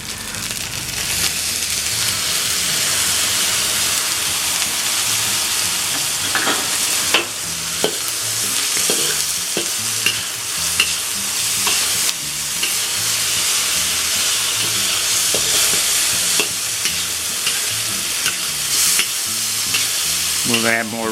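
Fried rice with soy sauce stir-frying in a hot pan, with a loud continuous sizzle and hiss broken by repeated scraping and tossing strokes, and no speech.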